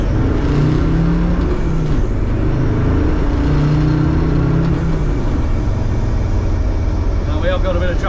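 Land Rover Defender Td5 with a GTB550 turbo accelerating hard in second gear on a road, a loud steady diesel engine roar with rising tone throughout, wind noise and talk over it.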